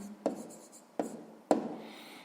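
A pen writes out a decimal math solution on paper, three distinct taps and scratchy strokes, quiet and close, with no voice.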